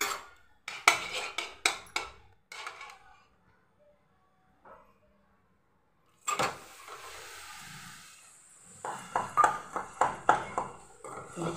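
Jaggery pieces drop into a cooking pan while making sesame-jaggery ladoo, sharp metallic clinks in quick bursts, then a near-silent pause before another run of clattering hits.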